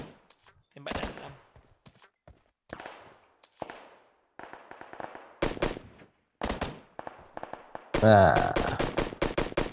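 Gunfire in the PUBG Mobile battle royale game, with separate bursts of shots and single cracks spread through the clip, ending in a loud, sustained volley with a ringing tail. A voice speaks briefly near the middle.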